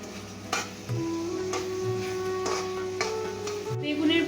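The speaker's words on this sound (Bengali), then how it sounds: "এই বেগুনের ভর্তাটা আমি 5 থেকে 6 মিনিট রান্না করে নেব।" Eggplant bharta with tomato cooking in a pan, a steady close sizzle with regular scraping strokes of a spoon stirring it, plus a faint sustained tone in the background.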